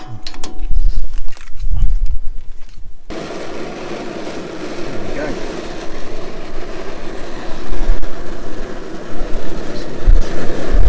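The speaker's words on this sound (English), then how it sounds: "This is on full gas now. Doesn't try and blow itself out." Three new gas burners on a 13-year-old Outback barbecue lit on full gas, giving a steady roaring rush that starts abruptly after a few seconds of rumbling handling noise.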